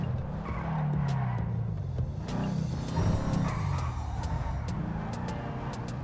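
A Ford Mustang drives in GTA V, its engine revving and rising and falling with gear changes, tires squealing at times, loud and continuous with the rumble of other traffic around it.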